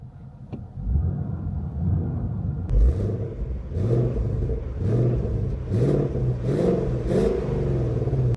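A V8 car engine set to its quiet exhaust mode idles with a subdued low rumble, then gives a series of muffled, moderate revs at a steady rhythm, nearby and without speech.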